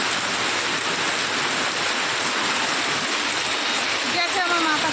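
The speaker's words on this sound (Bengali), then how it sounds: "আর কি জোরে নেমেছে বৃষ্টিটা" Heavy rain pours down outside a home in a dense, steady broadband roar, with a brief splashing clatter near the end.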